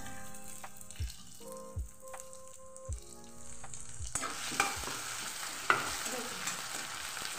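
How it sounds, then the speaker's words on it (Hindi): Potatoes and peas fry with onions in a pan, soft thuds of stirring over a steady tonal background at first, then a brighter, louder sizzle takes over halfway through, punctuated by occasional spoon knocks close by. "थोड़ा सा डाल देंगे अपनी आलू और मटर, जिससे ये अच्छे से भून जाए"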